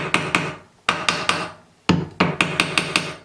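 A small ball-peen hammer taps around the edges of a seized tap, sharp metallic knocks in quick clusters of two to four blows with brief pauses between, close and loud, with no voices.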